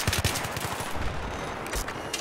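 N27 rifle fire in Battlefield 3 team deathmatch, a fast string of sharp, punchy shots in quick succession, close and loud over a constant battle background.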